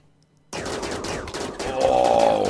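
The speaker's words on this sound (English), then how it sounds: "Oh, nice hail of gunfire." A sudden burst of rapid automatic gunfire in the video game RimWorld starts abruptly and rattles on continuously, loud and close, with a rising tonal whine toward the end.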